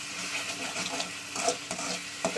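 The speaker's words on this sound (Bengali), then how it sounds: "তো এইভাবে কষিয়ে নেবো।" Kochu and katla fish curry stirred and sautéed in a pan, a soft continuous sizzle with light scraping and occasional small clicks, close and moderate in level.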